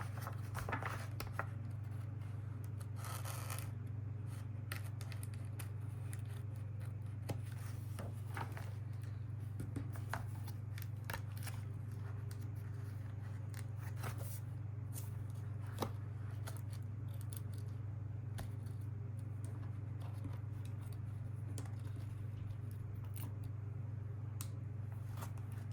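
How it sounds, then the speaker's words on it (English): Scissors snip along paper edges while trimming a junk journal spread, a steady run of small close cuts and rustles over a constant low hum, with no talking. "now let me trim these edges."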